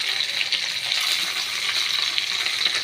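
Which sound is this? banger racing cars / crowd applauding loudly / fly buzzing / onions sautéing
onions sautéing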